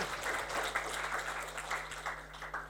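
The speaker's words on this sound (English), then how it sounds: "So let's give him a round of applause." Continuous applause from a crowd, dense clapping that stays steady throughout.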